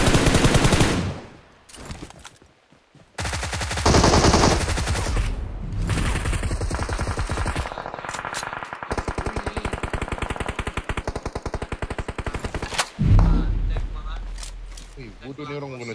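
Gunfire in the PUBG Mobile video game, with a sniper in play: loud bursts of rapid automatic fire and sharp single shots cut in and out across the stretch, with a heavy blast near the end and players talking over it.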